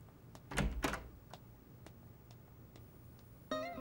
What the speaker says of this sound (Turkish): Kapı Orhan, kapı kapı.